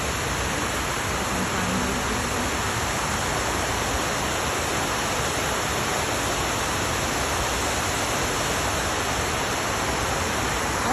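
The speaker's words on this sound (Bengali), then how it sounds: "চারি সাইড দিয়ে এরকম ঝর্ণা করে" Water pours continuously into the 9/11 memorial fountain pools in Manhattan, a dense, even, loud rushing roar with no breaks and no voices.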